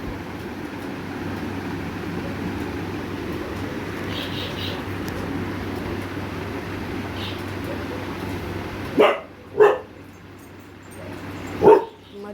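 A few sharp dog barks ring out near the end, two close together and then one more, after a steady stretch of background noise in a home kitchen.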